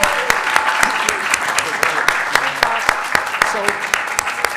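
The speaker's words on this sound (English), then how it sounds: "let's have another round of applause for our fantastic trainers" An audience at a student advocacy day applauds its trainers, giving steady clapping with sharp individual claps standing out over a dense wash, while voices murmur and talk beneath.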